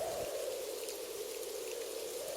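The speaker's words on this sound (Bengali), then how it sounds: "বাইরে তখনও প্রচণ্ড বৃষ্টি হচ্ছে।" Heavy rain falling outside at night, a continuous even wash of patter and hiss at moderate distance, with no voices.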